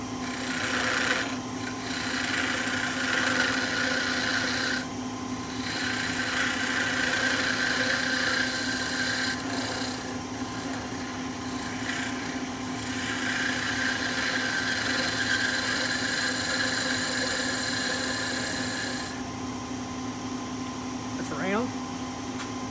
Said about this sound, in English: I'm going to switch to my 1 inch gouge just to get this round.